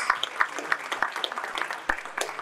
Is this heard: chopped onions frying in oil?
no